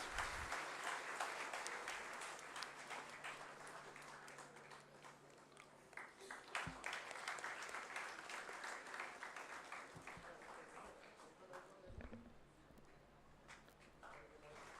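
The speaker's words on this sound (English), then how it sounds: "Please give a round of applause." Audience applause at a ceremony honouring a guest, part of a patriotic Indian event, sustained broadband clapping that fills the whole stretch at moderate distance, with some voices and footsteps mixed in.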